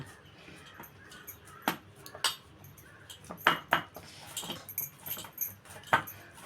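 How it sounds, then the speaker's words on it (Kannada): A bowl is set down over soft wheat flour dough on a kitchen counter, giving sharp clinks and light knocks of metal and dishware, several separate taps spread across a few seconds with quiet gaps between them. "ಅದೇ ಬಟ್ಟಲೆ ನಾನು ಮುಚ್ಚಿಕ್ತಾ ಇದ್ದೀನಿ"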